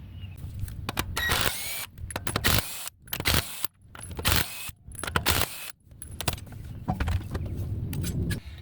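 Impact wrench on the front wheel lug nuts of a 2019 Infiniti QX60 3.5L during a brake pad job, firing in several loud, close rattling bursts separated by short pauses.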